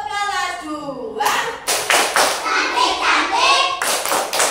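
A second-grade class claps in rhythm in a classroom during a maths lesson, bursts of clapping alternating with children chanting together, fairly loud and close.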